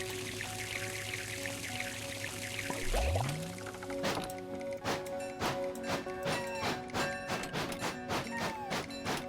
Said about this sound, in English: Fill up on water real quick.